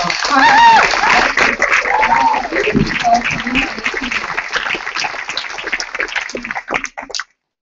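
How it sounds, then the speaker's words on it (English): Audience applause at a 2014 torch ceremony, a loud burst of clapping with cheers and voices mixed in that fades out toward the end. "Let's give ourselves a big round of applause"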